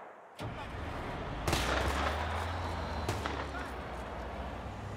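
Gunfire in the military game Arma 3 cracks out as several loud, sharp single shots over a rumbling, noisy battlefield background, with a low engine-like drone running underneath.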